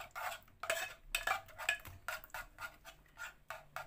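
Paneer tikka masala being stirred and mixed in a bowl, a spoon scraping and clinking against the sides in repeated short strokes, close and fairly quiet, with no talking.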